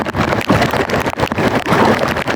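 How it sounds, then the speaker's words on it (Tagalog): Strong wind roars across the microphone in continuous heavy gusts, loud and broadband, with a low rumble underneath and no clear voices. "Grabe na kasi hangin."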